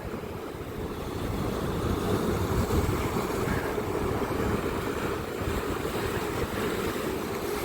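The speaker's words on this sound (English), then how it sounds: "The water hitting these pylons shakes wobbles your feet." Sea water surges against the pylons of a boat ramp on a wintry Tasmanian shore, a loud continuous wash of waves with rumbling swells and gusting wind buffeting the microphone.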